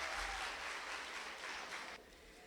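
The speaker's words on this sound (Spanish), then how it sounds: "Aplausos para ustedes." Audience applause in a hall after a talk on formative assessment, a faint, steady wash of clapping that drops off sharply near the end.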